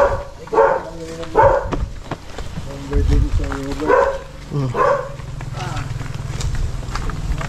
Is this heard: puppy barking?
yes